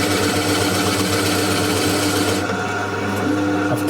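A Forstner bit in a drill bores into a router-damaged guitar body, producing a steady, close, continuous grinding whir with a faint rasping edge and no breaks.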